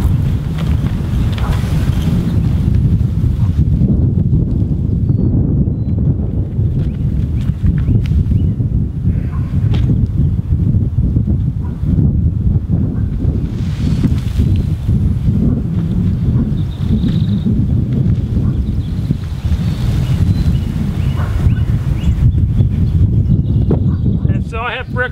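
Wind gusts through a vegetable garden while row covers are being laid over plants, roaring steadily against the microphone for about twenty-five seconds, with a voice talking faintly underneath.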